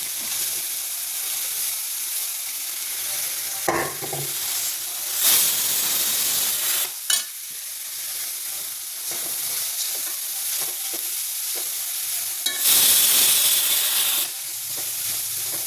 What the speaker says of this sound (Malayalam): കാബേജ് നമുക്കതിലോട്ട് ക്യാരറ്റ് ഇട്ട് കൊടുക്കാം.